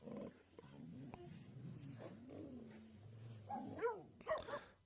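Two dogs squaring off in a confrontation: low growls and snarls rumble throughout, building to sharper, louder yelps and barks near the end, heard close by.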